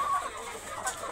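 Backyard chickens clucking briefly at feeding time on a small farm, a soft, low-level flutter of hen calls with faint ambient noise and no talking.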